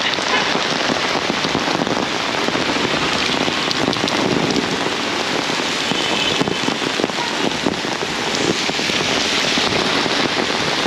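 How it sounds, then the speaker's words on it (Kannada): Heavy rain pours down steadily in Bengaluru during a storm that has brought down a tree, a dense, loud, unbroken hiss of drops on surfaces with no voices. "ಸಿಕ್ಕಾಪಟ್ಟೆ ಮಳೆ"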